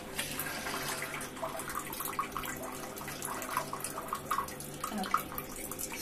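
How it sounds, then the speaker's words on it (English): A Smartmi smart toilet seat sprays water to clean itself, giving a running, splashing flow with small drips and gurgles at close range, moderately loud and steady. "it's going to start with a little bit of water just to clean itself from the last time it was used"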